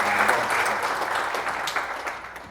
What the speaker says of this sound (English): if we could have just a round of applause for Miami-Dade College